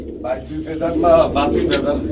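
A young pigeon at a pigeon seller's coos softly in short, repeated notes, nearly buried under people talking close by.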